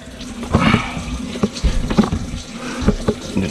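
Water runs from a faucet into an RV sink, an uneven splashing flow with intermittent clunks and spatters, close and fairly loud, no voices present.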